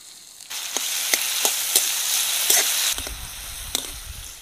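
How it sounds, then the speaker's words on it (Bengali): Chopped onion and green chilli hit hot oil in a heated pan, bursting into a loud, steady sizzle with sharp clicks of spatula stirring, then settling into softer crackling frying. "তেলের মধ্যে দিয়ে দিচ্ছি পেঁয়াজ আর কাঁচা লঙ্কা কুচি।"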